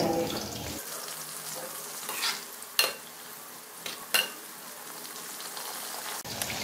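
Chicken pieces frying in a kadai for a Mongolian chicken stir fry, a soft continuous sizzle with occasional scraping stirs of a utensil, fairly quiet and close.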